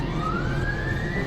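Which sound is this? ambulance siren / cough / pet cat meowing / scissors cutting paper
ambulance siren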